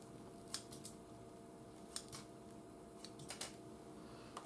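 Imitation crab cut into bite-sized pieces for a crockpot seafood bake, heard as a few faint, sharp snipping clicks spaced irregularly over a quiet room hum.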